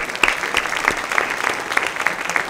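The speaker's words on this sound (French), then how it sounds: "Oui, on peut l'applaudir." A hall audience at a university awards ceremony applauds a prize-winning political science graduate, brisk overlapping claps close and fairly loud, filling the short stretch without any talk.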